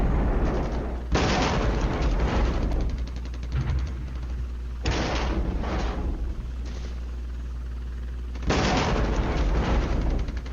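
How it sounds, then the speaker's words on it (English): An artillery barrage in a wargame strikes enemy mortar positions: three heavy booming blasts, each followed by a long rolling rumble and crackle, spaced several seconds apart over a low continuous drone. "We bring our second barrage of artillery onto the enemy mortars."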